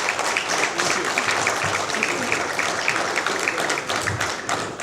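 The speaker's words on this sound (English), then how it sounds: "let's give them a round of applause." Steady, dense clapping from a large crowd at a company town hall, sustained at an even level for the whole stretch with individual claps audible close by.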